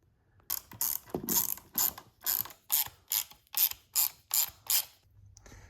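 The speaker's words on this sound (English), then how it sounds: "we're gonna run the 4 remaining screws in from the bottom, nice and snug" Torx T20 screws run into a plastic chain slider on a Yamaha Tenere 700 with a hand ratchet, a steady series of about ten crisp, close clicking pawl bursts in an even rhythm, with no voices.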